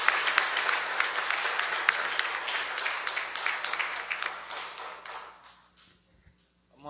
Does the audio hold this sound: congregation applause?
yes